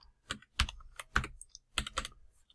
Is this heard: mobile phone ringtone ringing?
no